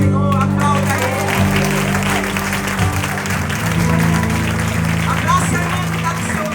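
A church congregation claps steadily over loud background music with a low droning bass; the applause stays continuous throughout.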